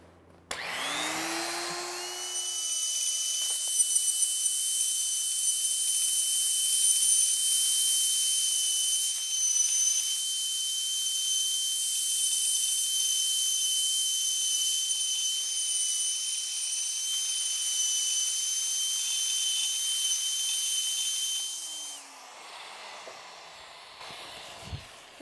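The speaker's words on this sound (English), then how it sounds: "my little die grinder here is working just beautifully with this kind of rounded, pointed bit" A small die grinder with a rounded, pointed bit grinds out epoxy-filled cracks in a live-edge wood table, holding a steady, loud high-pitched whine for about twenty seconds after a brief spin-up, then winding down.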